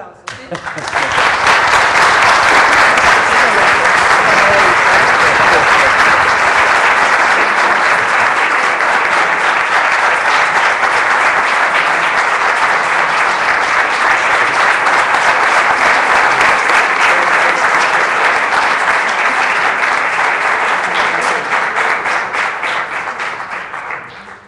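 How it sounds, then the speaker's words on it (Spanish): Sustained, loud applause from a conference audience after a keynote lecture on eradicating chronic child malnutrition, a dense steady wash of clapping that holds for over twenty seconds before tapering off. "Con este aplauso, ¿sí?"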